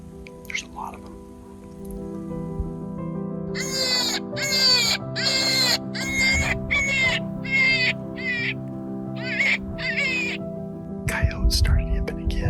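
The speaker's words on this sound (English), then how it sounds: "Coyotes started yipping again." A pack of coyotes yips and howls in a rapid series of high, wavering calls, close and fairly loud over a low background hum, during a deer hunting outing.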